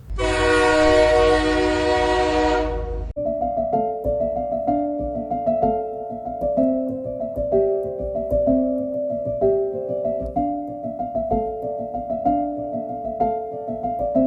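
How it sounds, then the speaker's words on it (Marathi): A passenger train running between Lokmanya Tilak Terminus and Ernakulam Junction, Kochi, sounds a loud, sustained horn blast for about three seconds. Steady music-like tones follow and carry on to the end. "ही train Lokmanya Tilak terminals L T T आणि Ernakulam junction E R S Kochi दरम्यान धावते"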